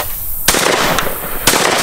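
Two loud, sharp shotgun blasts about a second apart, fired at flying clay targets outdoors, each with a brief ringing tail over a constant background rush.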